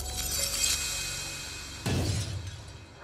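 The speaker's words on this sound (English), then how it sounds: "the crystal just shatters and explodes" A crystal shatters and explodes in one sudden sharp crash partway through, breaking into a scattering clatter that fades out after a low humming lead-in, with no talking.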